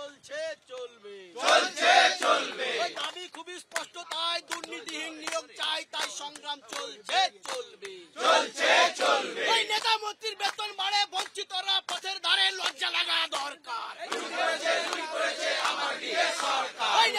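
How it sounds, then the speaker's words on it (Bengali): A crowd of protesters chanting slogans in loud, rhythmic call-and-response bursts, voices rising and falling together in a close, dense roar with no break. "আমরা দেখতে পাচ্ছি যে ইতিমধ্যে এখানে তাদের স্লোগান চলছে এবং তার সঙ্গে সঙ্গে তারা তাদের আবেদন কিন্তু চালিয়ে যাচ্ছেন"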